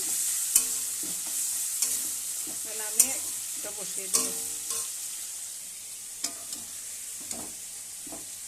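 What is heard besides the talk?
prawns frying in a pan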